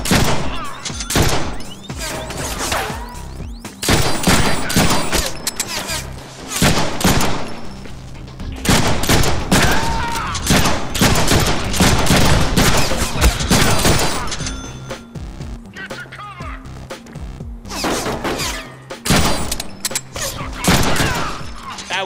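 Gunfire in the Deadpool video game: dense bursts of rapid shots and heavy impacts in loud, nearly continuous volleys, broken only by brief pauses.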